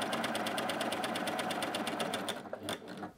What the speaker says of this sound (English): you can go ahead and sew in the other direction